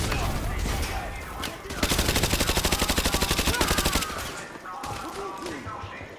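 Rapid automatic gunfire in Call of Duty Modern Warfare 2, a steady burst of closely spaced shots lasting about two seconds, loud and near, with game sounds and background voices around it.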